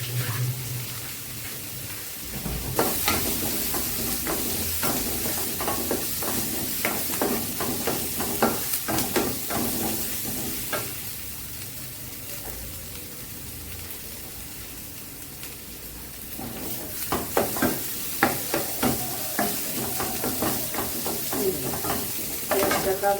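Kashmiri chili powder and ground spices sizzle steadily in a pan with onions while being stirred, a continuous close frying hiss broken by scraping stirring strokes that grow busier near the end.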